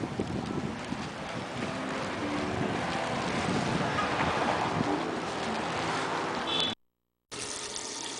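Water runs steadily from a restroom tap that will not turn off, a loud, continuous broadband rush with no talk, cutting out briefly near the end before resuming.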